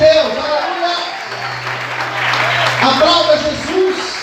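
A church congregation applauds during a sermon, a steady wash of clapping under and around a preacher's amplified voice and crowd noise.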